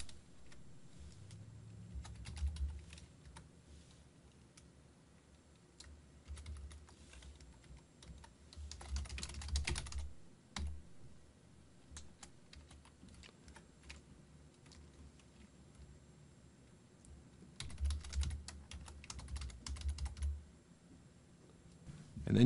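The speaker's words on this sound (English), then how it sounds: "type some stuff in here" Computer keyboard typing, with quiet continuous key taps and a few louder clustered bursts of clicking over a low background hum; no speech.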